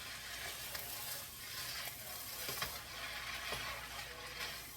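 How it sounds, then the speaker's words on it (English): Fried rice sizzles steadily in a pan while being stir-fried, a faint continuous crackle with occasional soft scrapes and clinks of stirring and no talk. "It is a stir fry, so you keep stirring it."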